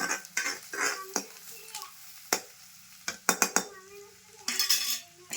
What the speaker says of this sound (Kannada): ಉಳ್ಳಾಗಡ್ಡಿ ಹಾಕೊಂಡ್ರಿ ಉಳ್ಳಾಗಡ್ಡಿ ಫ್ರೈ ರೀ ಸ್ವಲ್ಪ ಗೋಲ್ಡನ್ ಕಲರ್ ಬಂದಂಗೆ ಫ್ರೈ ಆಗ